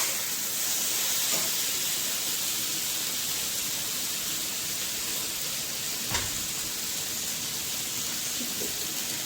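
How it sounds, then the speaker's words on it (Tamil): Ivy gourd sautéing in oil for an Andhra-style roast gives a steady, close sizzle and hiss that runs unbroken throughout, with a faint clink partway through. "இது கொஞ்சம் நல்லா கொஞ்சம் எண்ணெயிலே கொஞ்சம் வதக்குங்க"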